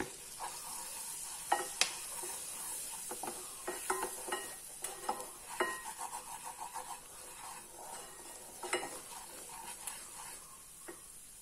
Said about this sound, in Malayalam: ഇനി നമുക്ക് മൈദ ഇടാം.